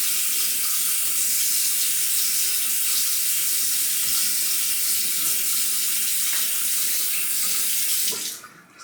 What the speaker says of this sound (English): I'm gonna rinse the face real quick.